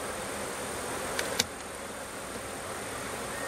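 Honeybees drone around an open hive in a dense, steady hum, with a couple of brief faint clicks near the start.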